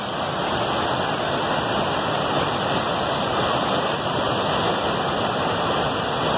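Water rushing into the Rio da Caixa dam reservoir in Rio do Pires, a loud, dense, continuous roar of flow with no breaks, close by and alone, no voices.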